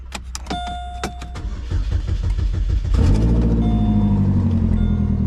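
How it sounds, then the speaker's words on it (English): A race car engine cranks with a rapid, uneven starter chatter, then catches and fires up into a loud, steady idle that carries on to the end. "We're gonna turn the car off, and we're gonna turn it on."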